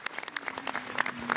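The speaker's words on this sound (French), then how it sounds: "des applaudissements à la sortie de ce cercueil" A crowd outside a church in France applauds as a coffin is carried out at a funeral, making scattered, fairly faint clapping heard from a distance.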